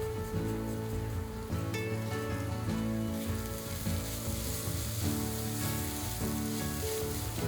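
Paneer and a chopped herb mixture fry in a hot pan with a loud, continuous sizzle and hiss, heard close up over steady background music.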